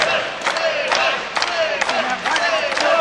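A wrestling arena crowd at a live match cheers and shouts continuously, loud and close, with repeated surges of yelling rising over the steady roar.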